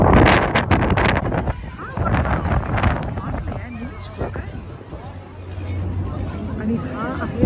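Strong gusting wind buffets the microphone beside Sydney Opera House on the harbour, a continuous low rumble with people talking over it and some background crowd babble.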